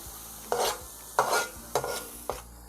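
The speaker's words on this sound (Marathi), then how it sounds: "आता एखाद मिनिटभर आपण मसाला तेलामध्ये शिजवून घेऊया।" Masala stirred and cooked in oil for a Koli-style catfish curry: four distinct spatula-scraping strokes with brief sizzles between quieter pauses.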